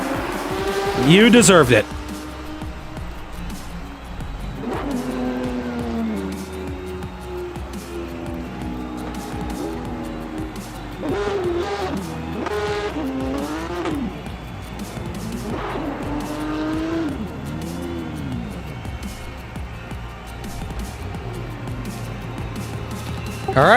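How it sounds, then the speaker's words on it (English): Porsche Supercup race car doing celebratory donuts at Albert Park during the Australian Grand Prix, with repeated tire squeals and revving engine surges over several seconds, under near-constant commentary voices. "let's get some donuts here"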